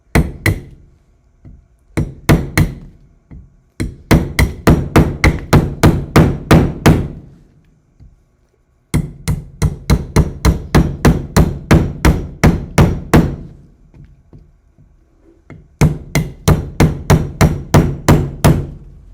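A hand chisel is struck repeatedly with a hammer to carve material, making sharp, evenly spaced metallic taps in three long bursts with short pauses between them, close and loud with no talking.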